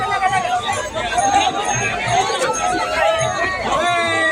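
A dense crowd of pilgrims at Pandharpur fills the air with close, overlapping chatter and shouting voices, a continuous loud babble with no pauses.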